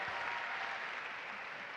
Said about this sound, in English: Huge applause for Lucia, please